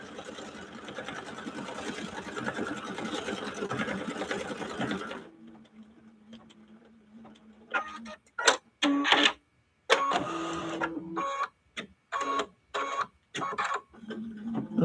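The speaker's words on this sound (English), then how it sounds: "once you lay the Mylar down, it stitches out around it and then it fills it in" An embroidery machine stitches around Mylar on a quilt block, first a dense continuous whirring drone, then after a short quiet hum a run of sharp stop-start bursts of stitching separated by brief silences.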